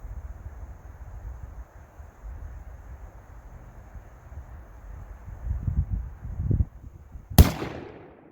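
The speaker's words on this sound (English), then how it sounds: "Oh, she's shooting right now." A single sharp rifle shot from a Thompson Center Compass II Compact .223 bolt-action rifle, sounding as a sudden loud crack with a short tail after several seconds of outdoor wind rumble and handling noise.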